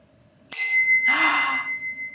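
A Japanese hand-painted Crane suzu bicycle bell is struck once, then again, giving a sweet, bright ring that lingers and shimmers as it decays.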